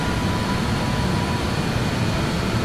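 Four jet engines of a BAe 146-300 airliner roar steadily during the climb, a constant broadband drone heard from inside the aircraft with no pauses.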